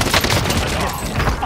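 Dense, continuous gunfire from the video game Warzone, a loud overlapping burst of shots and impacts that fills the whole moment without a break.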